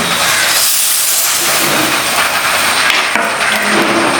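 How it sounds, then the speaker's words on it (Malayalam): Loud, steady hiss of water being poured into a hot pan of prawn curry with tomato and onion, a continuous sizzling rush that carries through the whole moment without talk. "വെള്ളം ഒഴിച്ചു കൊടുക്കാം"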